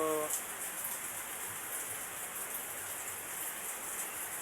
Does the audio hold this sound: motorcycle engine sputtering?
no